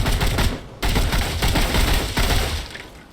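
Rapid automatic gunfire from a weapon in the Remnant 2 video game, loud dense bursts of shots with two short breaks between them and no one talking.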